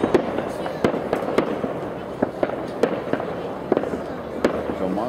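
Fireworks at a New Year celebration in Kauhajoki burst in a steady series of sharp bangs and crackles, some near and some farther off, while people chat nearby.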